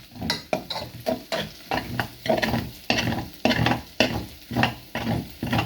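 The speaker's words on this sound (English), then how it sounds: "Now, I've got to keep on mixing." Cheese and egg noodles stirred steadily in a frying pan: rhythmic scraping strokes of a utensil, about two per second, over a continuous sizzle, close and fairly loud with no voices.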